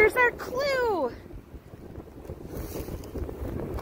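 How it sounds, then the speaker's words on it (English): Strong wind gusts rush across the microphone during an outdoor hike, a rough low roar that builds toward the end, following a brief voice at the start. "it's getting so windy"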